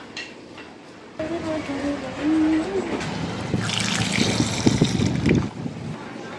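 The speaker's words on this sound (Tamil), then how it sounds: "இதை நான் உங்களுக்கு வந்து வாஷ் பண்ணிட்டு காமிக்கிறேன்" Freshly harvested taro roots are rinsed and rubbed in water, giving splashing and trickling sounds that swell in the second half, with a person talking briefly earlier and some wind noise.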